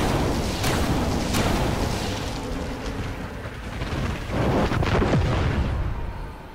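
Weapon fire aimed at a shrine in the Destiny video game, heard as loud dense bursts and booming blasts that rumble continuously, easing slightly midway before swelling again.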